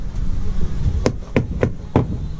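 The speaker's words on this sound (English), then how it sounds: "now it's for tacking up some ice and water shield" Four sharp hammer blows tack ice and water shield, a granular-surfaced tar paper, into place during repair of rotten sill and rim joists, with a quick irregular rhythm over low background noise.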